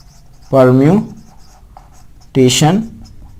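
Two separate bursts of a marker squealing across a classroom board, each a loud, high, tonal screech under a second long, with quiet room tone between them.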